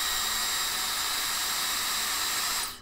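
A hair dryer runs at full speed and maximum heat, giving a steady, close, airy whoosh with a faint whine. It switches off and fades out at the end.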